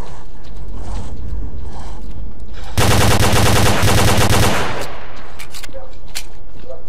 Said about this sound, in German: Oh, jetzt muss ich auch noch nachladen.